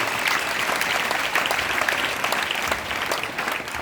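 Congregation at a church convention applauding steadily throughout, a dense wash of clapping with no pauses.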